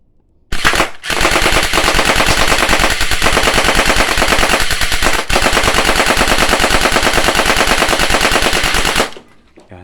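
A mini AK47 gel blaster toy gun fires on full auto in one long, loud, close burst of rapid evenly spaced shots lasting about eight seconds, with a brief dip midway and a sudden stop.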